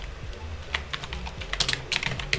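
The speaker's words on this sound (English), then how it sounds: "Just type in send." Quick, irregular keystrokes on a computer keyboard while composing and sending a test email, close and clear with brief bursts of clacking, no talking.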